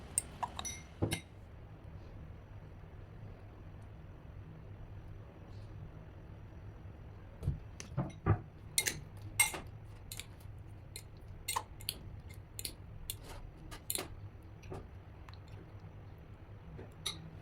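Black and white sesame seeds are stirred into batter for frying banana slices, with sharp, irregular utensil clinks against a bowl that cluster near the middle of the clip over a low, steady background hum.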